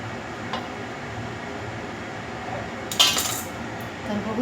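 A knife slices through a rolled sheet of samosa dough on a board, with two faint, brief taps and scrapes of the blade against a quiet background.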